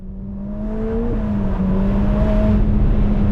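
A 2025 Ferrari Roma Spider being driven fast, its engine note steady and loud with a rising whine as it pulls hard, heard from inside with no talking.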